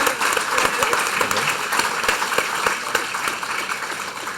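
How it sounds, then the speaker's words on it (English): An audience at a council event applauds its guests with sustained, dense clapping from many hands, fairly near and steady with scattered sharper claps. "give a round of applause to our guests"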